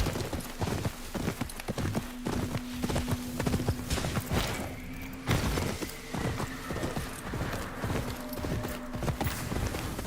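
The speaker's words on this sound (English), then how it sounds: "The horse is a remarkable jumper." Galloping hoofbeats from a horse in the video game Ghost of Yotei, rapid rhythmic thuds with a brief whinny, close and continuous over ten seconds.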